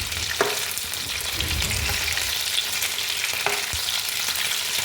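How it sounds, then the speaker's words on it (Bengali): Marinated chicken pieces for chilli chicken fry in a pan, a continuous loud sizzle and hiss with a couple of sharp knocks of a spatula turning the meat, no voices. "মাংসটাকে এপিট ওপিট করে আমি ভেজে নিচ্ছি।"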